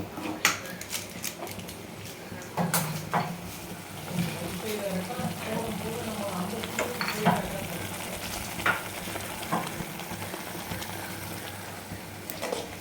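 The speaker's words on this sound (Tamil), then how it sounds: "இப்போது நம்ம வேக வச்சிருக்க சென்னாவை இதனோட நம்ம மிக்ஸ் பண்ண போகிறோம்." Chana masala fries in oil in a pan, a soft, continuous sizzle broken by occasional spoon scrapes and knocks as it is stirred, fairly quiet and close.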